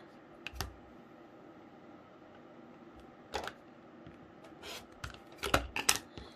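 Scissors or a rotary cutter trimming corners off sewn quilt block fabric, a few faint, brief snips and clicks spaced out against a quiet room.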